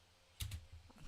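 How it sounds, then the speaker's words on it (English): A single space bar press on a computer keyboard, a quiet, close double click with a faint trailing rattle against low fan hum. "I am clicking space now."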